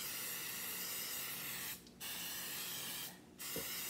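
Cooking spray hisses onto floured boneless skinless chicken thighs in an air fryer, a continuous close, loud spray broken by two brief pauses, with no talking.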